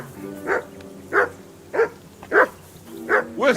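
A dog in the medieval video game Kingdom Come: Deliverance barks six times at a steady, evenly spaced rhythm, each bark loud and close over a low ambient background.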